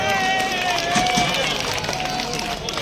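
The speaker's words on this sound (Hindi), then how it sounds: "तालियां बजा दें एक बार, जोरदार तालियां।" A crowd gives a burst of steady, fairly loud applause at a Congress party public meeting in Husaini Chowk, Brahmpuri. The clapping fills the whole moment, with a voice over the top.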